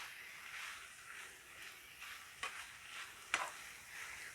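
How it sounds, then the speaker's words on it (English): Cabbage, garlic and onion are stirred together in a pan with lemon chicken and rice, giving a soft, steady scraping and faint sizzle, with two sharper clacks of the utensil near the end. "I'm going to mix the cabbage, the garlic, the onion,"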